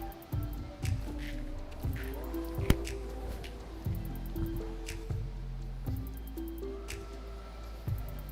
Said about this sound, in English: let me add some water to this paint